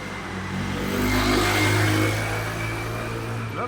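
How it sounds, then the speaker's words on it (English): A car passes nearby on a busy road, its engine swelling as it draws close and then fading away, with a constant wash of traffic behind it. "lots of traffic noise"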